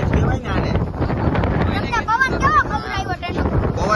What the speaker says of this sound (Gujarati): પવન કેવો આવે છે